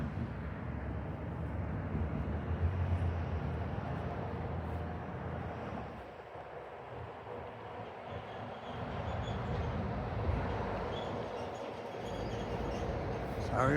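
Steady street traffic near a tree in an outdoor setting, a continuous broadband rumble of passing vehicles with a brief dip in the middle before it swells again, fairly loud and with no talk over it.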